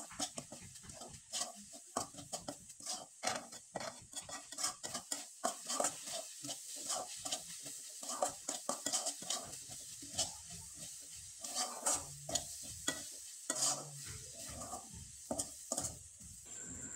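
A utensil works grated coconut filling around a pan in a quick, uneven rhythm of scraping and tapping strokes over a soft background sizzle, fairly quiet and close, with no talk.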